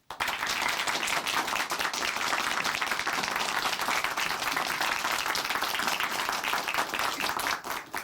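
Church audience at Chuncheon Hanmaum Church applauding to welcome a testimony speaker, a dense sustained wave of clapping from many hands, steady and loud throughout before tapering at the end.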